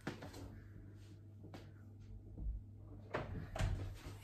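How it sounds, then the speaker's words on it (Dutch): A house door pushed shut in a Dutch home, a couple of soft wooden knocks and a latch-like thud near the end, quiet and close with no talk. "Deurtje dicht."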